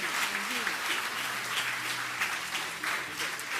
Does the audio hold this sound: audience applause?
yes